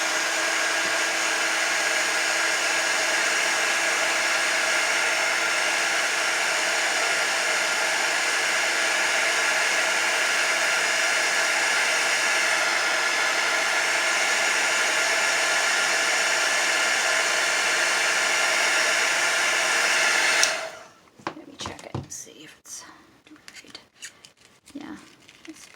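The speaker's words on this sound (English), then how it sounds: "I'm going to just dry it with my heating tool" A heat tool drying craft paper for a fall-themed junk journal blows a loud, steady whooshing roar for about twenty seconds, then cuts off, leaving faint handling rustles.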